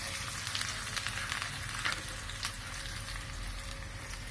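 Onions with curry leaves frying in hot oil for a North Karnataka cucumber palya, a continuous close crackling sizzle with faint stirring, steady and moderately quiet throughout, no voices.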